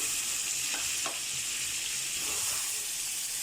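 Tomatoes frying in a pan during preparation of a Hyderabadi kidney and liver curry, giving a steady, close sizzle throughout with a few soft stirring scrapes and no voices.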